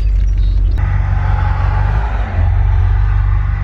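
A 2020 BMW M8 Competition revving, its engine giving a deep, loud low-end growl and rumble that dominates the whole few seconds, with a brief sharp click near the start and no talking.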